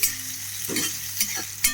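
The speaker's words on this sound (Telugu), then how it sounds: "సో ఆనియన్స్ అంతా ఆయిల్లో కలిసే విధంగా మనం ఇలాగా కలపాలి." Sliced onions are stirred in hot oil with turmeric for a raw banana curry, giving a soft, constant sizzle broken by three short scraping strokes of a spoon.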